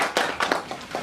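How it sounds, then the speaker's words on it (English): At a workshop, an audience gives a presenter a short burst of applause: a handful of distinct, fairly close claps in quick, uneven succession, with no talking. "Please let's give her another round of applause"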